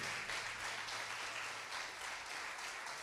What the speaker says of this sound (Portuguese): Aplauda o nome de Cristo.